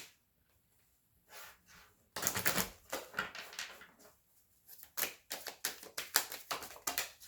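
A deck of tarot cards being shuffled by hand, a sparse riffle at first, then a dense run of quick, crisp card flicks and taps that come close and fairly loud, with no voices over them.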